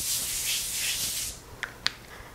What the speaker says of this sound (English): spray it with some nonstick cooking spray